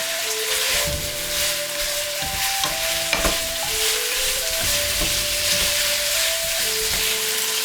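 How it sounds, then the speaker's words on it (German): Continuous loud sizzling from a frying pan as chestnuts cook with chicken, broken by a few utensil scrapes and taps while it is stirred. "Esskastanien auch dazugeben."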